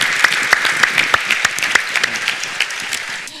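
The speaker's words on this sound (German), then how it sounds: "Es gibt einen schönen Applaus." Audience applause after a German panel discussion: steady, dense clapping from a large crowd, loud and close, running the full length before dropping off at the very end.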